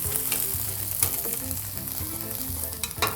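Tomato and eggs stir-fried in a hot pan with oil, sizzling steadily and close up with continuous crackle and the scrape of stirring throughout.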